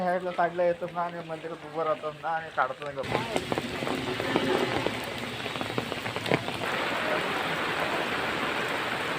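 Steady rain pours down with a dense hiss after a few seconds of speech, continuing loud and close throughout.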